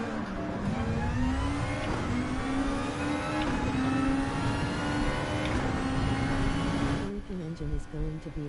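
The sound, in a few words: twin-turbo 3.0 inline engine car in video game Gran Turismo 7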